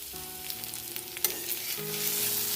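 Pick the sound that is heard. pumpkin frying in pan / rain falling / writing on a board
pumpkin frying in pan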